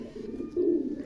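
A round-boned pigeon coos nearby, giving a low, soft, throaty call that swells in the second half.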